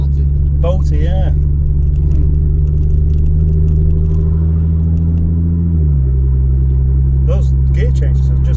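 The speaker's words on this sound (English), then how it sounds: "Those gear changes are just incredibly smooth though." A supercharged Audi S4 drives on the road, its steady engine drone and low rumble dropping in pitch partway through as it smoothly shifts gear, with brief chatter from people inside the car over the constant noise.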